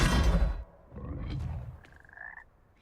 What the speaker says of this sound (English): We have to go through the frogs, which I don't like because it sounds terrible.